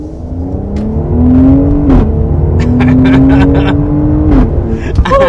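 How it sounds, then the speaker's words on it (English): A 2022 Mercedes GLC in Sport Plus mode with variable exhaust open revs and climbs through gears with a loud, throaty exhaust roar, pitch rising and dropping as it accelerates, with pops near the end. "I'll put it in Sport Plus with the variable exhaust on"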